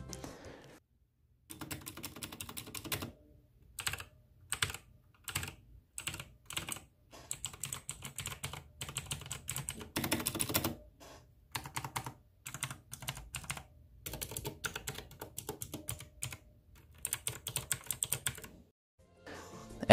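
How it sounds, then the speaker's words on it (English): Redragon K552 mechanical keyboard with Outemu Blue switches being typed on, close and crisp clicky keystrokes in quick bursts and flurries separated by short pauses, no talking. "the keyboard Red Dragon K552 with Otamu Blues. Here is the sound test of that."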